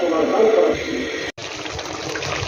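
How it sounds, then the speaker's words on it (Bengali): Water poured into a pot of Bengali beef curry with potatoes, a steady gushing pour that stops briefly mid-way and then resumes as a softer running flow. "এখন জল দিয়ে দেবো"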